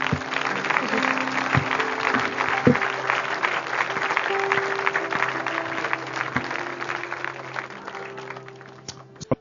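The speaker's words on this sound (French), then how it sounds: "Veuillez applaudir pour la gloire de Dieu." Congregational applause at a French church gathering, a broad, sustained clapping of a large crowd, steady for most of the stretch before tapering off, with a sustained musical tone lying underneath.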